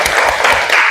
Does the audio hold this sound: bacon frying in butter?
no